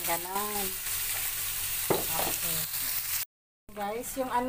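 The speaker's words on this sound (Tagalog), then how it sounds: "pagkatapos ng carrots, prito natin yung capsicum, yung pula at saka green" Red and green capsicum frying with carrots and rice in a pan for Valenciana, a continuous close sizzle and crackle with occasional stirring scrapes, heard under a voice, which talks over it and pauses briefly.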